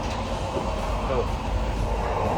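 Low rumbling interior noise of the Oslo to Bergen train as it sets off, a steady broadband roar with a faint squeal partway through, no talk.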